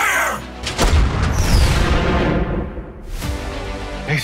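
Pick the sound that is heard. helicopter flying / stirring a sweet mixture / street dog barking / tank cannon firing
tank cannon firing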